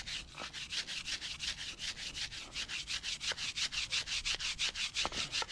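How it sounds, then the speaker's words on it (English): Stiff detailing brush scrubbing dirt and grime off car coilovers, a steady close rhythmic back-and-forth rasp of bristles repeating quickly and evenly throughout, with no voices. "use your stiff brush or detailing brush to remove the worst of the dirt and grime"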